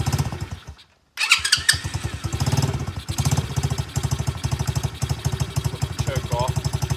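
X-pro Bolt 110cc motorcycle engine cranks after a brief silence, catches and settles into a steady, close idle with a fast even putter, while someone talks over it.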